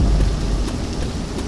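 Heavy rain hisses steadily while a deep rumble of thunder rolls underneath in Left 4 Dead 2, loud and close.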